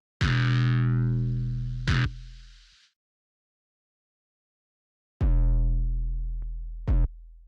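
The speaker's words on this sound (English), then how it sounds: "that is where we are getting a lot of the character from in terms of distortion on this 808" Two heavy, distorted 808 bass notes boom and decay, each followed by a second gritty hit, separated by a stretch of silence.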